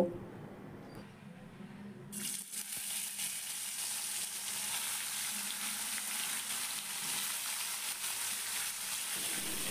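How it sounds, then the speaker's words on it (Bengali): Rohu fish pieces frying in hot oil in a wok, a steady, bright, close sizzle that starts abruptly after two seconds of quieter noise and then continues evenly to the end, with no talking. "তেলটা খুব ভালোভাবে গরম হয়ে গেলে এখন আমি মাছগুলোকে ভেজে নেব।"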